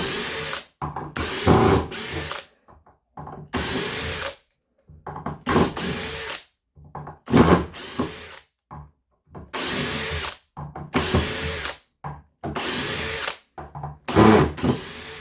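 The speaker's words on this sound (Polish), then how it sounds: "kiedyś to się wkrętarka nawet nie zatrzymywało" A nine-year-old cordless screwdriver runs under load in repeated bursts of a second or two, whining and straining up close, separated by short silences, some bursts faltering as the motor bogs down.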